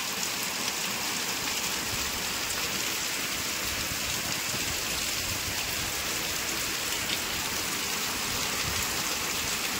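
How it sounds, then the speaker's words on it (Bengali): Sudden heavy rain pours down steadily for the whole stretch, a dense, even hiss of drops drumming on surfaces nearby with no voices over it. "দেখো খুব জোর বৃষ্টি হচ্ছে, হঠাৎ করে এত জোরে বৃষ্টি চলে এসছে।"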